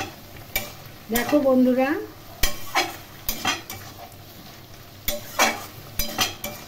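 Cauliflower, potatoes and spices being sautéed in a pan: repeated scraping stirs of a spatula over a soft sizzle, arriving in irregular bursts, with a voice speaking briefly near the start.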